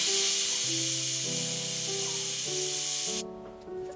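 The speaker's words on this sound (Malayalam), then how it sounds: "അങ്ങനെ കുക്കർ ഒരു വിസിൽ അടിച്ചിട്ടുണ്ട്." A pressure cooker whistling while beef dum biriyani cooks, a loud steady hissing blast with a wavering tonal hum beneath it, cutting off sharply near the end to leave a quieter residual hiss.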